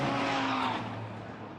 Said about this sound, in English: I can hear revs and all sorts of things happening.